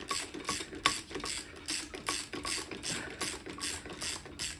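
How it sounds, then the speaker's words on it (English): A ratchet clicks steadily while top-end bolts are tightened on a 2002 Yamaha YZ250F engine during a rebuild, giving a fairly quiet, close run of rapid mechanical ticks with no talking. "And then you release them, and then you tighten them back up to 14 pounds."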